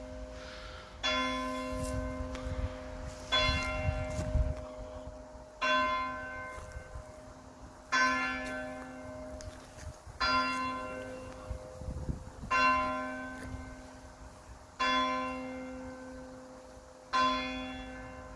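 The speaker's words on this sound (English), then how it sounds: "11 bells. That made me jump, I didn't expect that." A church bell strikes eleven, eight slow, evenly spaced loud rings ringing out over a quiet background.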